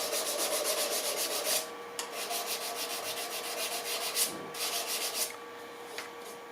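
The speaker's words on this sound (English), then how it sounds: "Just a little bit of sanding there, hand sanding there." Hand sanding of a wooden pepper mill turning on a lathe, a steady rasping rub with short regular strokes that repeat evenly, close up and with no talk.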